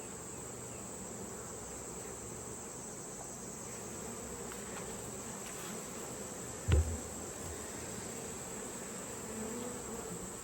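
Honey bees buzzing around an open hive of a strong colony during comb honey harvesting, a steady low drone throughout with one brief thump midway, no talking.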